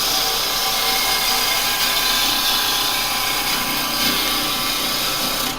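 A gouge makes a full bevel-controlled cut on dry wood spinning on a lathe, throwing shavings with a continuous bright, hissing scrape over the motor's hum.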